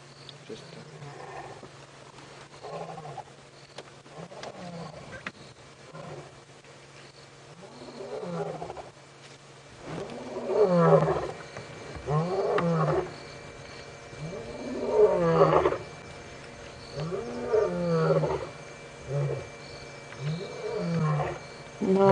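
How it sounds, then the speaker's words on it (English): Male lions call in the distance during a live safari drive, a series of deep grunting roars that rise and fall in repeated bouts, growing louder over about twenty seconds. "If you listen very carefully, you can hear the lions roaring."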